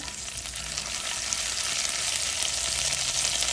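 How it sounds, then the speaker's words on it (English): Garlic sizzles gently in a pan on low heat, making a close, continuous soft hiss and crackle that is heard alone and grows slightly louder over a few seconds. "So in my pan here, I have some garlic, and I have my stove on low,"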